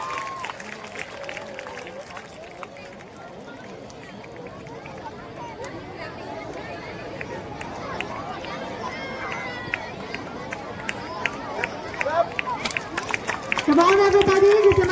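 A school audience applauds the winning house at an inter-house volleyball competition during an Independence Day celebration, a dense patter of many hands that grows louder toward the end, with crowd murmur underneath.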